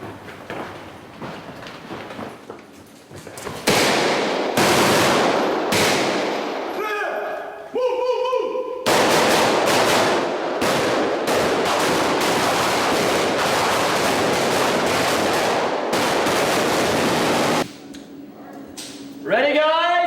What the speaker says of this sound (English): that's when we're going to start popping some gunfire